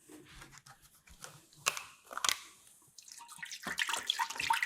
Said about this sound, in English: we're going to pour the milk into our large saucepan.